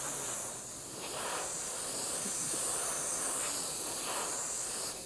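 An airbrush sprays a light coat of paint in a steady, continuous close hiss that holds evenly for several seconds with slight dips in pressure.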